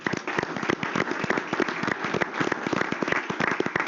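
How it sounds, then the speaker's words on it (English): Lively audience applause at a school district board meeting, with many individual claps, close and energetic, sustained without a break. "So let's give them another round of applause"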